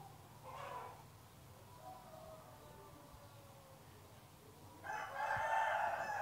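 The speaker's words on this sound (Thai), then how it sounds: "ไก่นี่ก็ขันจังเลย" Rooster crowing in the mobile game Line Ranger, a faint crow early on, then a louder, harsher crow rising near the end over a quiet background hum.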